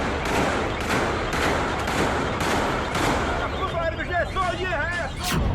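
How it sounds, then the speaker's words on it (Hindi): Bursts of gunfire crack repeatedly in the streets of Beirut, Lebanon, amid shouting voices and crowd commotion, the shots irregular and fairly close. "गलियों में बरसती गोलियां"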